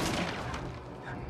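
Gunshot fired at a box in the video game Little Nightmares 2: a short, loud burst of blasts filling the moment, dense and booming.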